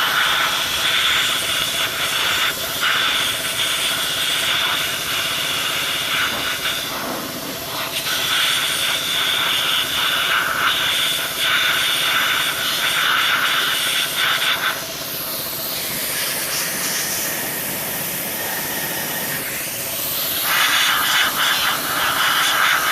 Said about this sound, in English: now I'm going to hit it up with an air compressor and make sure there's no liquid in this bottom bowl